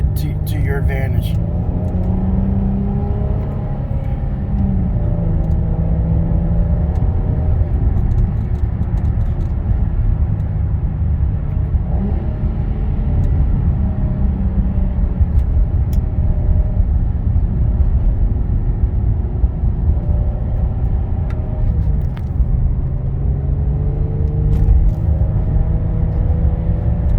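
A 2006 Infiniti held in third gear in TipTronic mode, its engine giving a loud, steady, close rumble from inside the car, with the pitch rising and falling gently as it pulls.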